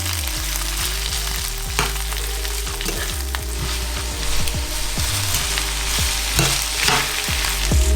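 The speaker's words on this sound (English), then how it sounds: "Stir this some more." Peppered goat meat with green peppers and onions being stirred in a hot pan, a steady loud sizzle with repeated scraping stir strokes throughout, no talking.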